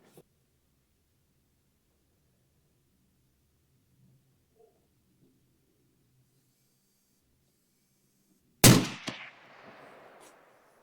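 A single sharp, loud rifle shot from a Sig Sauer Cross .308 breaks a long near-silent stretch, followed by a short rolling echo that fades outdoors.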